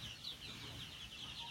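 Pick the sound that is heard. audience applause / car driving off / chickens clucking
chickens clucking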